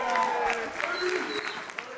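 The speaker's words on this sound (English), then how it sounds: "Round of applause for the groomsmen" Applause from wedding reception guests, a steady patter of clapping with a voice calling out over it.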